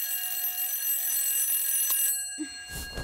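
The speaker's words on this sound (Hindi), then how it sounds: "ये अलार्म अपनी बेटी को उठाने के लिए लगाया है या पूरे मोहल्ले को?" An alarm clock set to wake a daughter rings with a steady, loud electronic tone for about two seconds, then cuts off, leaving some brief indoor rustling.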